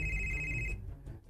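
A telephone rings once with a short electronic tone, about 0.7 seconds long, over a low background hum. The tone then stops abruptly and the background fades.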